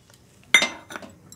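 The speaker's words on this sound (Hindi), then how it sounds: "मुझको इसको चलाना पड़ता है, नहीं तो कढ़ी नीचे लग जाती है" A utensil scrapes and clinks against a pot while kadhi is being stirred, two short metallic knocks close by and otherwise quiet.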